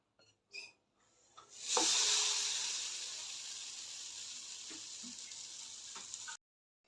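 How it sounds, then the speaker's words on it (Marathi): A gram-flour-dipped bread slice sizzles loudly on a hot griddle, a steady frying hiss after a few light clinks, then it stops abruptly. "भाजून घ्यायचा आहे तव्यावर"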